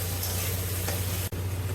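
Spice masala with tomato and crushed ginger-garlic sizzles in a pan for home-style chicken biryani, a steady close frying hiss over a low hum, with a brief dip near the end and no talk.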